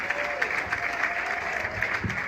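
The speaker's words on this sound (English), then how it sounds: "Clap it up, clap it up, clap it up." Comedy club crowd keeps applauding for a newly introduced comic, continuous even clapping with scattered sharper claps, steady and moderately loud with no break.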